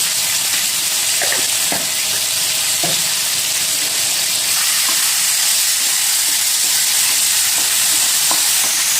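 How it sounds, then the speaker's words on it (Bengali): Tomatoes sizzle steadily in a hot pan with a constant hiss, broken by occasional light scraping and stirring taps. "এখন টমেটোটাকে ভালো করে একবার ভেজে নেব।"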